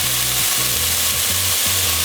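Pork egg roll filling frying hard in a pan with soy sauce, sugar and black pepper, a loud, dense, continuous sizzle close up with some rhythmic stirring scrapes underneath, no voices.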